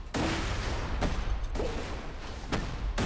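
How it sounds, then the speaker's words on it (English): Explosions and gunfire from the shooter video game Borderlands 2 boom through a dense, loud barrage, with several sharp blasts punching through the continuous rumble. "Explosion."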